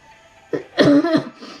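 A close cough, a quick rough burst followed by a heavier, drawn-out hacking cough, loud against a quiet room.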